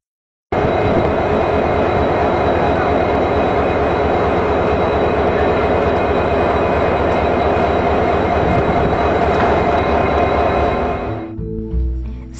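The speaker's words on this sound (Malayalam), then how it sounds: "ഈ സമയം ഒരു യാത്രാ ട്രെയിൻ എഞ്ചിൻ പിടിപ്പിച്ചുകൊണ്ടിരിക്കുകയാണ് അവിടെ." A passenger train locomotive being coupled at Madgaon station in Goa gives a loud, continuous engine drone that holds steady for about ten seconds, then cuts off abruptly.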